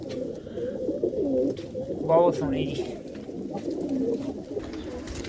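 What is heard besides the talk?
pigeons cooing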